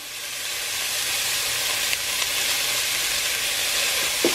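Vegetables and seasoning sizzling in a pot for a vegan creamy potato leek soup, a loud, even hiss and crackle close by with faint stirring scrapes and a knock near the end, no voices.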